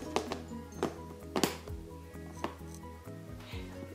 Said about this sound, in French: je vais remettre le couvercle